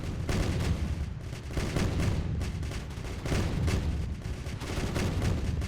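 Snipers and tanks firing in a battle video game: repeated bursts of gunfire and heavy shots come in uneven waves, fairly faint and continuous, with no talk.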